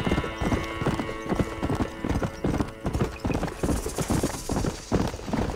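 Steady clip-clop of horse hooves trotting at a brisk, even rhythm, close and clear, with music playing in the background, in the video game Red Dead Redemption on PC.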